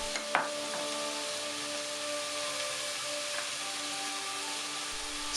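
Ground beef with potatoes, carrots and peas cooking in a pan for a samosa curry filling: a steady close sizzle, with a couple of sharp utensil clinks near the start and no voices.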